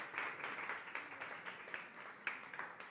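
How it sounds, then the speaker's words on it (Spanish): Audience applause at an art talk, a quiet round of scattered hand clapping from a modest crowd, faint and somewhat distant, continuing evenly for a few seconds. "un fuerte aplauso también para vosotros que estáis aquí un viernes por la tarde, pero sobre todo para ellas"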